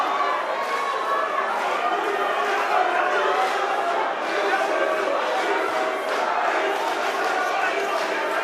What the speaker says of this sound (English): There's a chant in the crowd.